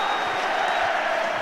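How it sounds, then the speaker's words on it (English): A rugby league stadium crowd at a St Helens versus Leeds match roars and applauds in a steady, dense wash of noise, heard from a distance without a break. "And listen to this crowd."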